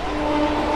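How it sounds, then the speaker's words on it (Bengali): A train pulling into Bidhannagar station at platform 2, a brief loud, steady rumble with a tonal drone, heard close by and alone. "এখন একটা ট্রেন চলে আসছে দেখুন।"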